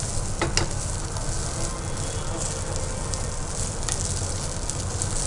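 Spring onions sizzle and fry in a hot pan for spicy fried rice, a steady close crackling hiss with brief stirring scrapes over a constant low rumble.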